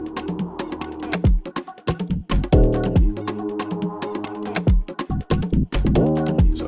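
A percussion loop for a hip-hop beat, with crisp repeated hits and tight, busy rhythmic patterns layered over a low bass line and melodic stabs, steady and loud without any talking.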